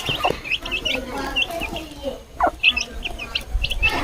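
Village chickens cluck and chirp in repeated short calls nearby, with one louder squawk in the middle, over a faint outdoor background.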